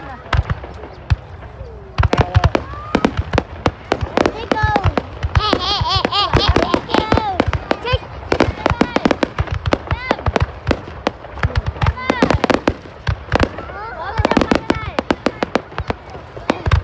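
High-altitude fireworks burst over Dinh Tien Hoang square in Hoa Lu, Ninh Binh, Vietnam, with a rapid, irregular stream of loud cracks and pops. Excited adults and someone talk and laugh close by throughout.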